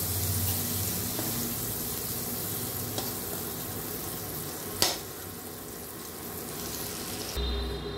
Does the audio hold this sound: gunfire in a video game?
no